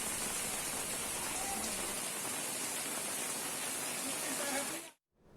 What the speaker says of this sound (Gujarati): રાજુલા સહિતના ગ્રામ્ય પંથકમાં વરસાદ વરસ્યો